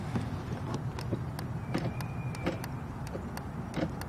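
A Mini Cooper R50 trunk release mechanism gives a series of faint, short electric clicks and whirs at an uneven pace over a low background hum, heard up close.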